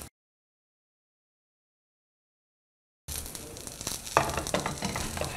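Batter frying in a pan over low heat, a steady close sizzle with small crackles and pops that starts abruptly after a few seconds of silence.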